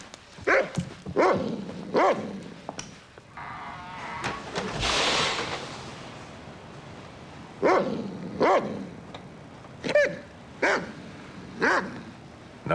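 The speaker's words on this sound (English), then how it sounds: "Nice dog." Dog barking repeatedly in short, loud, close bursts, several in quick succession, then a pause with a rush of noise before another run of barks.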